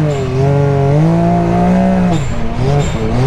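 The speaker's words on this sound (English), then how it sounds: "We're drifting the driveway." A Can-Am X3 side-by-side on 33-inch tires drifting on a driveway, its engine revving loudly and close with rising and falling pitch as the tires spin and slide.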